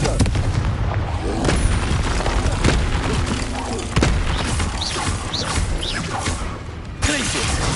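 Confringo blast spell in Hogwarts Legacy: repeated booming explosions and crashes with whooshing bursts, loud and close, in a dense stream of combat noise with a sharp new blast near the end.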